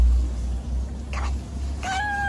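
A cat meows in a quiet room, two short calls: one brief mew, then a clearer rising meow near the end, close and moderately loud over a low background hum.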